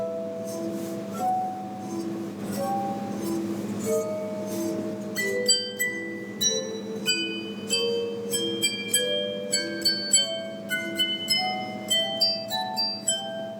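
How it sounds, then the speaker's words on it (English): Sustained ringing tones from rubbed water-filled glasses of a glass harp overlap in a slow melody, later joined by brighter plucked-sounding high notes in a steady rhythm. "A glass harp is, in fact, a set of glasses filled with water."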